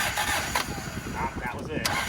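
An abandoned Toyota TE72 liftback with inconsistent spark cranks and catches for its first start, a rough, sputtering engine close by with uneven bursts over a steady mechanical drone.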